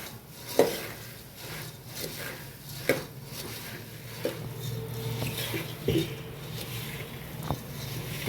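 Puffed rice is stirred in hot oil in a kitchen pan, with a soft continuous rustle and scraping broken by occasional light knocks of the spoon against the pan, fairly quiet and close.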